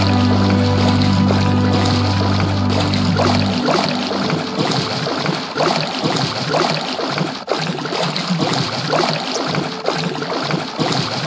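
Boats moving across water in the survival game Sunkenland, with a steady wash of splashing and rushing water throughout, joined by a low engine-like drone during the opening seconds.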